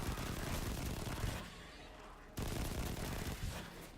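Rapid gunfire shooting Fallen enemies in Destiny 2, a dense continuous burst of automatic fire that drops away briefly midway and then resumes just as loud.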